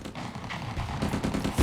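Gunfire from a World War One battle at Gallipoli, a sharp loud shot cracking out at the end after a dense stretch of rumbling, crackling battle noise, with no voices.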